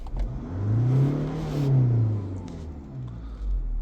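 Mazda CX-5 with the 2.2 Skyactiv diesel engine and a blocked DPF, revving up in one smooth rising and falling sweep, then settling toward idle, loud and close.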